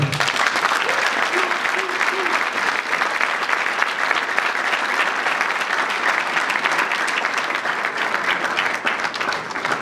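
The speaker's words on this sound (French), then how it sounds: "sous vos acclamations, vos futurs gouverneurs, Deoka Songo et Nelly Kiwewa." A crowd claps steadily and loudly throughout, a dense unbroken wash of applause with brief faint cheering near the start.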